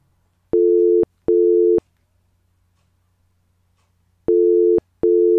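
A phone call goes unanswered in the horror game Sara Is Missing: clean electronic telephone tones sound in pairs of evenly spaced beeps, a long silent gap, then another pair, alone with no voices.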